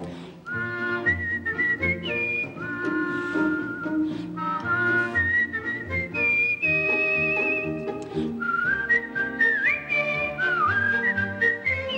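Melodic human whistling, a wandering tune with sustained notes and quick pitch slides, carrying on continuously over a backing of instrumental music.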